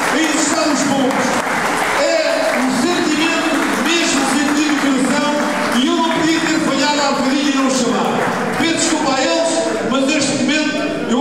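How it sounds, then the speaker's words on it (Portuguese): Audience applause at a pigeon-racing club awards night, thanking the helpers who teach the pigeons. A dense, steady clapping wash fills the room and runs throughout, mixed with sustained tonal sounds and voices. "temos para estes homens uma grande salva de palmas para eles"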